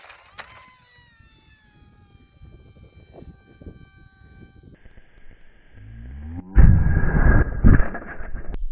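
A 3D printed radio-controlled plane launches outdoors, its electric motor and propeller rising from a faint whine to a loud, buzzing roar in the final seconds.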